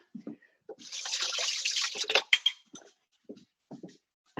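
A small kitchen knife, just used on onion, is rinsed under a running tap, a steady hiss of water for about a second and a half before cutting off, followed by a few soft clinks and faint handling sounds.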